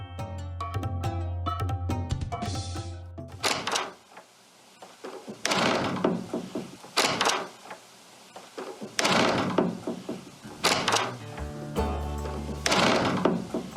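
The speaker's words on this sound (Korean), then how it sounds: "아, 문 닫는 소리였구나." A door shuts indoors, the kind of household noise heard between floors in an apartment, with several loud thumps and bangs recurring at irregular intervals. A burst of tonal music comes first, followed by quieter rustling between the knocks.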